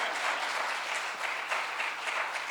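Steady audience applause in a hall at an entrepreneurship conference, a dense even wash of clapping lasting a few seconds at moderate distance, with no voices over it.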